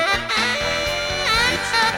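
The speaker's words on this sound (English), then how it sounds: "Let's say you accidentally move a piece of audio out of sync" Dense music plays with its layered parts clashing and misaligned, the rhythm sounding jumbled and off-time.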